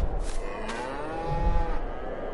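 Cattle mooing in the Farming Simulator 22 video game on a snowy, icy farm, with a single drawn-out low moo running through the short stretch, fairly close and alone without talk.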